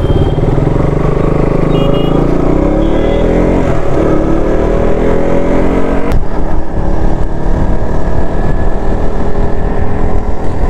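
A KTM motorcycle engine running loud and close as it pulls away from a showroom in Kallakurichi, a dense steady roar with a shifting pitch partway through.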